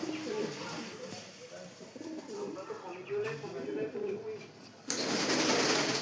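Kamagar Golden pigeon at a shop, with low repeated coos rolling through, mixed with nearby talking, and a burst of broadband noise near the end.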